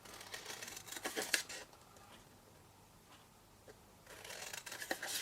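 Crisp scissor snips cutting paper along score lines come in two short bursts with a quiet gap between, close and clear, no talking.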